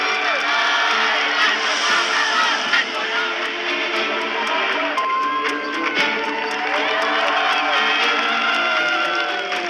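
Crowd cheering and whooping at a political event, a steady loud roar of many voices sustained throughout with scattered shouts and whistles rising above it.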